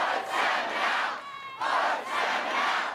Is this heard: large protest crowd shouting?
yes